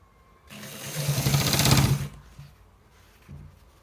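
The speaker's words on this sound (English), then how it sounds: "We are stitching it." A sewing machine runs one burst of rapid, buzzing stitches on a designer collar shirt, loud and close for about a second and a half, then stops, leaving quiet room tone with a faint hum.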